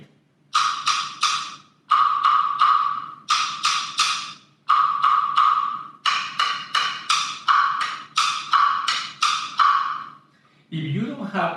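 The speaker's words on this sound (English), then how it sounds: "It can be played with a regular drumstick like this and can produce more than one sound depending upon where you play it." Plastic jam block struck with a regular drumstick, quick rhythmic clusters of bright, hollow clicks with short pauses between groups, then a brief lower, duller knock near the end, close-miked with no talking.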